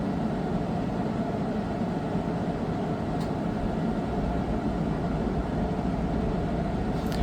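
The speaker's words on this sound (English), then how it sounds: "You can hear the furnace kick back on." An RV furnace runs after its gas ignites, giving a loud, steady broadband roar and rumble with no break, plus a couple of faint brief ticks.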